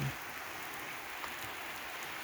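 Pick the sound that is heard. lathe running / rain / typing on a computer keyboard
rain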